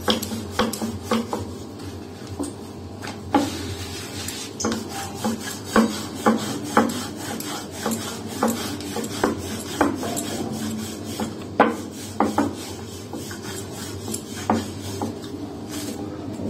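Mughlai (moglai) paratha dough rolled out with a rolling pin in a home kitchen, giving close, repeated rubbing and scraping strokes in an uneven rhythm, with light knocks of wood against the board and no talking.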